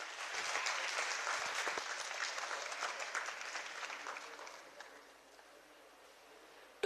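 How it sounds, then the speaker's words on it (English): Conference audience at a university valedictory programme giving a big round of applause, a dense clatter of many hands that gradually thins and fades toward the end. "Please give a big round of applause."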